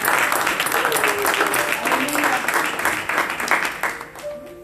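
A church congregation applauding during a prayer service, dense sustained clapping that fills the room, with voices over it, tapering off near the end.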